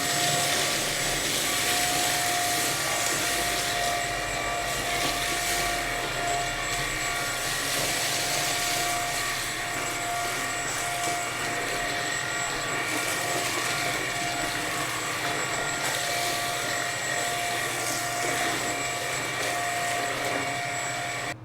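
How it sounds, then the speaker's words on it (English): A Bissell CleanView XR Pet vacuum cleaner runs on normal mode, a steady whining motor hum with a constant tone that continues throughout, moderately loud and without talk. "last up we have the Bissell CleanView XR Pet"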